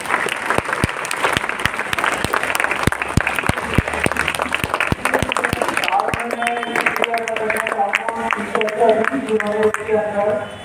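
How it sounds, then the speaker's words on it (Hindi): Loud, dense applause from a crowd honouring children at a cricket tournament prize distribution, with sharp individual claps close by, thinning toward the end as a voice begins speaking over the last few seconds. "तालियां सब बच्चों को।"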